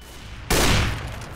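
A single sharp burst of gunfire erupts in a CS:GO match, loud and abrupt after a quiet moment, its noisy tail decaying over about a second.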